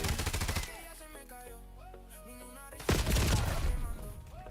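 Gunfire in Call of Duty: a loud burst of rapid automatic shots opens, then quieter game sounds follow, then a second heavy burst of fire, with no voices.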